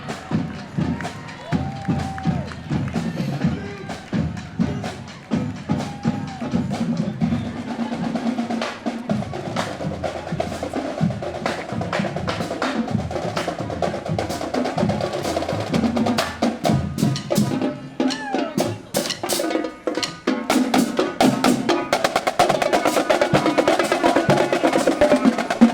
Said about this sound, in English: Let's listen to the sounds of the El Segundo High School Eagle Pride Marching Band and Color Guard.